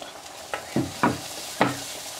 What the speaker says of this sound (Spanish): ya que está viendo doradita la salchicha, le voy a agregar cebolla.